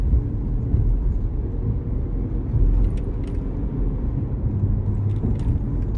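A 2005 Chevy Equinox with an ABS warning light drives and turns on the road, a steady low engine and road rumble heard from inside the cabin, with faint rattles over it and no talking.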